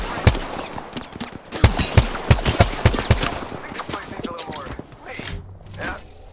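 Rapid bursts of gunfire ring out in Apex Legends, with loud repeated shots clustered in the first few seconds, followed by softer scattered impacts and game sounds.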